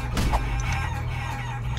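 Chickens cluck and crow loudly from the Guacamelee video game, a dense burst of fowl calls over steady game music, with no talk.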